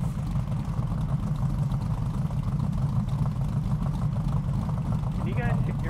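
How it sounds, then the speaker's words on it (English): Steady idling truck engine in a farming video game, a constant low rumble running throughout with a brief higher-pitched whine near the end. "We're just riding here along in the back of the truck."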